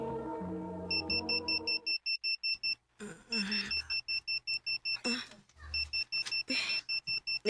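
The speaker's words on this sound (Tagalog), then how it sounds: "May alarm naman di ay." An electronic alarm beeps in rapid bursts of short, bright, evenly spaced tones, repeating across the whole stretch and loud against a quiet background, with brief pauses and a voice talking between the bursts.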